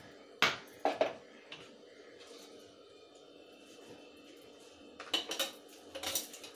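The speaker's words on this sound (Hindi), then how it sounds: "अब हम ये चीनी डाल देंगे।" Sugar goes into a blender jar for a banana shake: a few sharp clinks of spoon on jar at the start and again near the end, quiet and close, with near-silence between.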